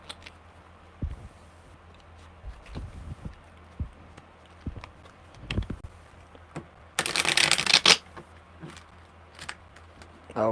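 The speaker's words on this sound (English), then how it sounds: "one more good shuffle" A deck of tarot cards is riffled in one brisk burst of dense shuffling at close range, preceded by scattered soft taps and handling noises in a quiet indoor room.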